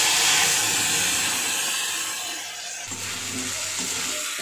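Fish curry (macher jhal) cooking in a home kitchen pan gives a steady broadband sizzle and steamy hiss throughout, with a faint low hum joining near the end.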